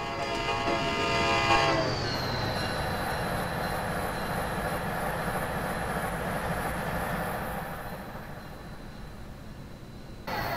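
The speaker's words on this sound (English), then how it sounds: "Alright, I want to get next to the train." A train in the Train Simulator game rumbles past close by, a horn blast sounding at the start before the steady rolling roar of wagons continues alone and slowly eases off near the end.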